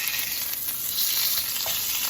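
Meat just flipped sears in a hot pan, giving a loud, continuous hiss and crackle of fat with no talking.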